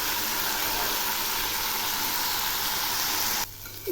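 Green beans fry in a pan with a little water still cooking off, a steady close hiss and sizzle that holds evenly before cutting out abruptly near the end.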